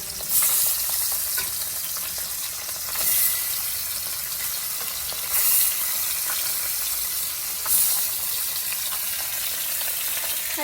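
Sea fish fries in a pan with a constant bright sizzle, and periodic louder crackling surges come every couple of seconds as the pieces are stirred or turned.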